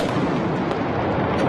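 A ceremonial artillery gun salute at a presidential swearing-in, one massive booming report rolling out in a long, loud, sustained rumble that fills the whole moment.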